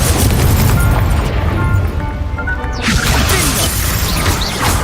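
An Incendio fire spell in Hogwarts Legacy bursts out as a loud crashing whoosh, first near the start, then a second fiery blast near the three-second mark after a brief dip.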